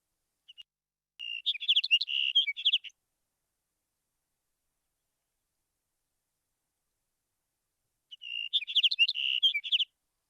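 Two short, sweet tinkling sagebrush sparrow songs separated by a long silence, each a quick jumbled phrase of high notes, clear against a quiet background.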